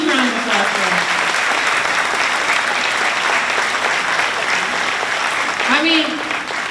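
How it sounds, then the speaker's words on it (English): Steady applause from a crowd at a graduation ceremony fills the whole stretch, dense and even, with a voice briefly rising over the clapping. "Give yourselves a huge round of applause for that."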